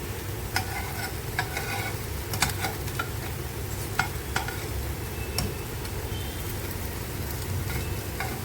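Alu vadi, taro leaf rolls, shallow frying in a pan: a continuous soft sizzle with scattered sharp pops and clicks of spattering oil, alone and close.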